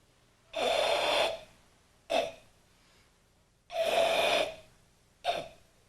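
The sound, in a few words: heavy breathing during karate kata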